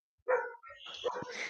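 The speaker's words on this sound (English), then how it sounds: "you can hear them dogs in the background," Dogs bark outdoors at a distance, a few muffled barks and yips mixed with people talking nearby.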